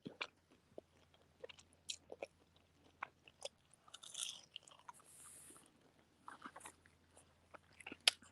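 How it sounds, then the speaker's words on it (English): Someone eats salty McDonald's fries up close and quietly, with scattered soft bites and chewing crunches, some in quick clusters and some spaced apart. "got my salty fries, y'all. Saturday, I got my salty McDonald's fries"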